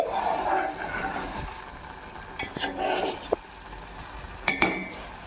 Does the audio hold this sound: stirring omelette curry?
yes